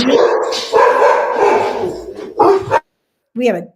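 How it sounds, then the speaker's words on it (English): Dog barking in short loud bursts close by, a run of barks followed by a brief pause and one more bark at the end. "is that your dog?"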